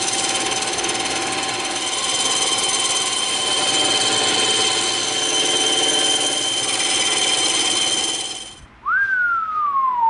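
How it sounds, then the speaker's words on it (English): Bandsaw ripping through a 2-inch thick block of EVA foam, a loud continuous whining buzz that holds steady for several seconds, then cuts off abruptly and is followed by a short falling whine as the blade spins down. "we're gonna take this baby and we're gonna rip it out on the bandsaw"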